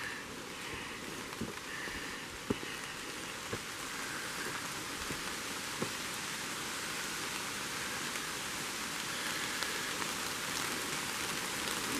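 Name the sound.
rain falling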